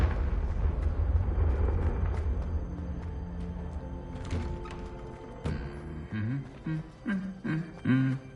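A Confringo blasting spell explosion in Hogwarts Legacy, a heavy booming burst with a rumbling decay at the start, followed by a sharp crack and lighter thuds as tonal game sounds rise afterward.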